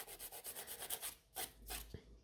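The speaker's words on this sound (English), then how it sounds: "Filing the other side, so nice and straight." A nail file rasps back and forth across a fiber gel nail while the free edge is squared and shortened, a series of close, quick scraping strokes that pause briefly near the end.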